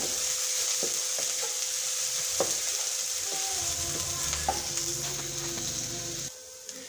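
Shami kebab mixture fries lightly in a pan with a steady close sizzle and scattered spoon taps and scrapes, quietening toward the end.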